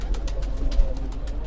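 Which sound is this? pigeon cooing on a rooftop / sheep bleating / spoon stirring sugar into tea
pigeon cooing on a rooftop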